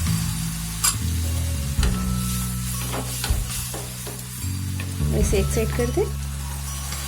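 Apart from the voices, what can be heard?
chana pakoda batter frying in oil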